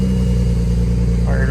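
A BMW 335i engine just after a fuel pressure regulator housing repair, running with a steady low drone and harmonic hum, close and loud, a brief voice rising over it at the end.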